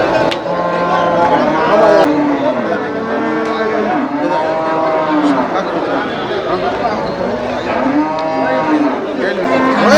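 Kankrej cattle moo repeatedly at the Melapalayam cattle market, with several drawn-out calls over steady crowd chatter and people talking nearby.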